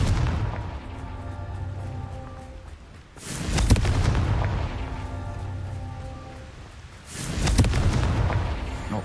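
Confringo spell blasts in Hogwarts Legacy, two loud booming explosions with rumbling tails set against a low continuous game background, no voices.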